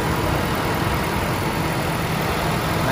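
A 2007 Toyota Innova G idles with a steady, even hum and uniform mechanical hiss, close and continuous, with no surges or stumbles.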